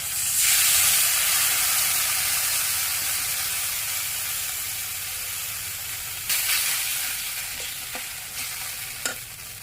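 Spices, green chili and ginger paste hit a hot pan with water, setting off a loud, bright hiss that slowly fades, with a few stirring knocks near the end.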